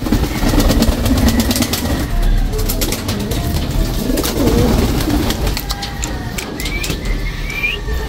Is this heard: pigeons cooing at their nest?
yes